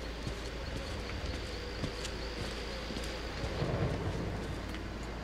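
Steady rain hiss with faint rumbling thunder and scattered drips on a stormy night in the horror video game Outlast, continuous and fairly distant with no talk.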